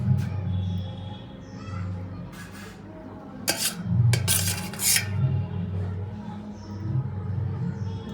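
Homemade yogurt is spooned into semolina in a mixing bowl, giving a few soft clinks and scrapes of a spoon against the bowl over a steady low hum of kitchen background.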